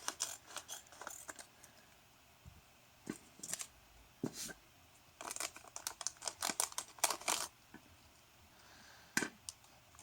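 Crinkly plastic packaging around a WS2812b addressable LED ring being cut and opened, with soft rustling and several sharp crackling bursts, close and fairly quiet, no talking.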